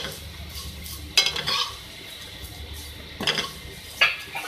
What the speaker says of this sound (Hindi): घी में आप सेवइयों को फ्राई कर लें।